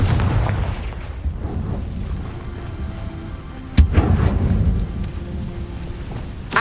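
The Confringo blasting spell in Hogwarts Legacy bursts with a dense, booming rumble, one sharp explosive crack standing out midway over a continuous roaring wash of game effects.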